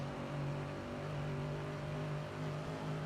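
Steady mechanical drone of a muscle race car engine in a racing video game, holding an even pitch and level for a few seconds, with no voices.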